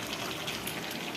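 Water gushes steadily into a cooking pot of chopped bottle gourd for a fish dish, a continuous close pouring rush with no talk.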